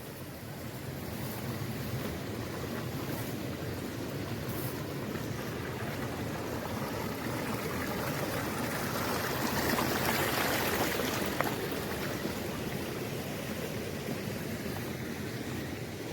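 A mountain stream crossing a forest trail on Mount Slamet, a steady broadband rush of flowing water that stays loud and continuous throughout, swelling slightly near the middle, with no voices.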